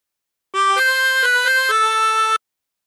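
A chromatic harmonica plays a short phrase: five bright, sustained reedy notes in a steady legato run, close and loud, with silence before and after.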